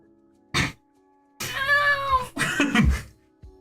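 During a tabletop role-playing game, a person's voice imitates a cat, giving a short yowl and then a long, wavering meow that breaks into coughing, strained sounds, loud and close.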